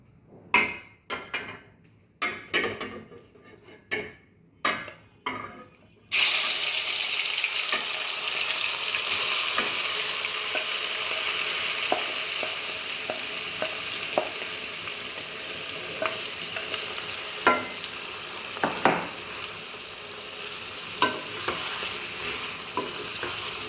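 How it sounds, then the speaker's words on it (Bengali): Marinated beef is poured into hot soybean oil while cooking with jackfruit seeds: first several sharp taps and clatters, then a sudden loud, steady sizzle of frying meat that continues, stirred with occasional scrapes and clinks, close by. "এবারে আমি গরম তেলের মধ্যে আমার ম্যারিনেট করা মাংসগুলো ঢেলে দেবো"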